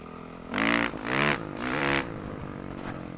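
A dirt bike engine in first gear revs in three quick rising bursts, each swelling loudly then dropping back to a rough idle, close by with no talking.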